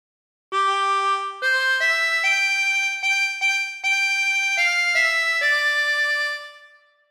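A harmonica plays a phrase of Waltzing Matilda, a run of about ten clear, sustained blown and drawn notes stepping through the melody, close and alone, with the last note fading out.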